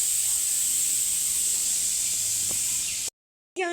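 A pressure cooker of dal lets out a continuous loud, steady whistling hiss that cuts off abruptly near the end, then briefly resumes.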